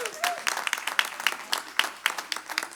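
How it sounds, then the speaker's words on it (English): Sparse clapping from a small audience at a mayor's COVID-19 briefing, a few distinct, uneven claps spaced through the moment rather than a full ovation, with some talk beneath. "yeah, you can clap for that."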